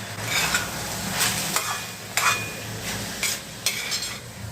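Broken rice grits stirred and sautéed in a pan for rice-rava upma, giving a steady low sizzle broken by several sharp scraping strokes of a spoon against the pan, close and clear with no talking.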